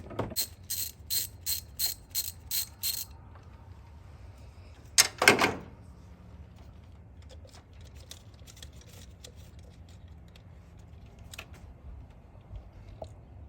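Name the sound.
ratchet removing 10mm bolt from ignition coil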